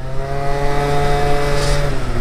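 Aprilia SR 50 Motard 50cc moped with a LeoVince TT exhaust idling nearby, a loud steady buzzing engine drone with a brief rise in pitch near the end, no talking.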